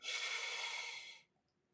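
A single long, steady inhale through the diaphragm, about a second long, close and breathy, then quiet.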